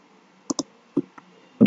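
A few crisp mouse clicks while working in Microsoft Word, a quick double click followed by two single clicks, close and isolated against near silence.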